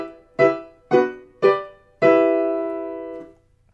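Orchestral excerpt from Tchaikovsky's Nutcracker Suite: three short, punchy tonal chords in even succession, then a fourth held chord that slowly decays, with no voices.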